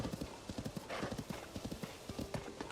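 Horse hooves clip-clopping at a steady trot in Zelda: Tears of the Kingdom, a brisk even rhythm of hoofbeats close by with a faint whinny and background game sounds.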